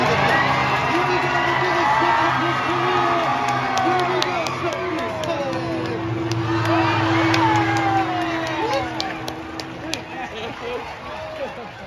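A crowd cheers and whoops at a pig race in Alaska, loud, dense excitement with children shouting, while an announcer talks over the noise.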